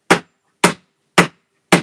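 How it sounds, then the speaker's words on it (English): Four sharp hammer blows strike at an even, unhurried rhythm, each a crisp close knock with a quick decay and clear silence between them. "You can actually tell when you're hammering."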